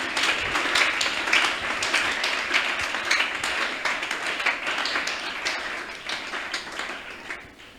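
Congregation applauding in a French-language church service, sustained energetic clapping from many people, loud at first and gradually tapering off.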